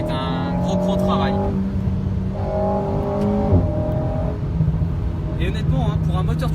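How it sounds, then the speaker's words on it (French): A new Alpine A110 with a turbo engine revs through its exhaust, a rising and falling engine note with clear tonal pitch climbs, moderately loud and close, under a person talking. "il y a l'échappement, mais il y a vraiment aussi la sonorité moteur qui est très bonne"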